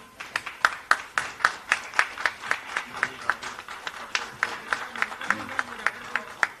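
An audience gives steady rhythmic clapping in unison for a newly named state treasurer, each clap sharp and evenly spaced at a brisk pace, with faint murmuring underneath.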